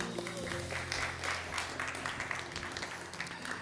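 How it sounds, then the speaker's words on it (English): Conference audience at an energy tech summit main stage applauding, a dense, steady wash of clapping from many hands throughout, with faint voices underneath. "Round of applause, please."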